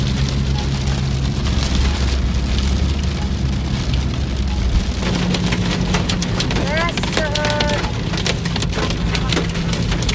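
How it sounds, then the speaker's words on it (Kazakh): Heavy rain pouring on a car while driving, a dense continuous roar of drops drumming on the roof and glass with a low engine rumble underneath and a few squeaky wiper-like chirps partway through. "Жаңбырдың қаттылығы сонша, мұның тазалап үлгермей жатыр."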